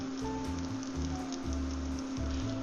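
Leeks, ginger and garlic sizzling in butter in a pan, a close, steady crackling fizz with faint spatters, running alone without speech.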